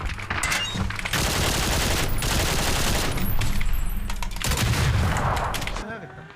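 Gunfire in the battle game PUBG, sustained bursts of rapid automatic shots in dense volleys lasting several seconds, loud and close, with brief pauses between bursts.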